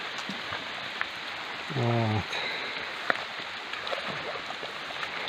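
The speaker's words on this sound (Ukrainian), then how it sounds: "У нас іде дощ." Steady rain patters on surfaces, a dense continuous hiss with a few louder drips, and a brief voice-like tone breaking in once.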